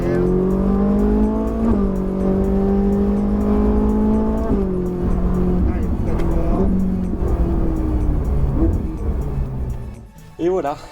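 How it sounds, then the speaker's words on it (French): Loud Ferrari 458 Italia engine revving up through the gears on a circuit, pitch climbing then dropping at each shift, heard from inside with a voice speaking over it. "Allez, on accélère. Allez, on freine fort."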